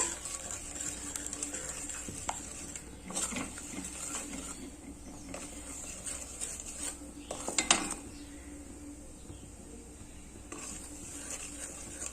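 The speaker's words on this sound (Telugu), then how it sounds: "ఇవన్నీ బాగా ఫ్రై చేసుకుందాం." Masala with coriander powder frying in a pan for Hyderabadi mirchi ka salan, a quiet sizzle under scattered scraping and clinking of a spoon against the pan, with a louder clatter near the middle.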